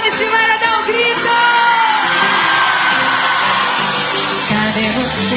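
A concert crowd of fans shouting and cheering at a live show, a dense sustained roar of many voices with whoops and yells over music, loud and continuous throughout.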